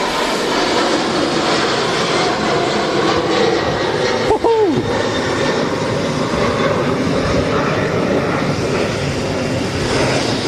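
Airliner departing Manchester Airport, a loud sustained jet roar heard from a distance that stays heavy and steady through its takeoff run and climb.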